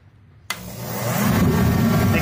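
A Mr. Heater 75,000 BTU kerosene forced-air heater fires up with a sudden loud whoosh, then settles into a steady, building roar of fan and burner close by.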